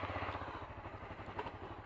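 A motorcycle engine idles nearby with a steady, throbbing mid-pitched rumble and light mechanical clatter, fairly faint and unbroken, with no speech.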